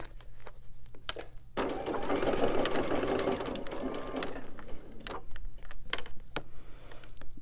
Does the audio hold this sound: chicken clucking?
no